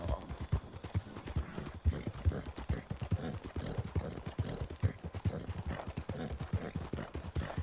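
Steady clip-clop of horse hooves at a trotting rhythm in Red Dead Redemption 2, close and continuous, with a faintly synthetic game-like quality and no talking.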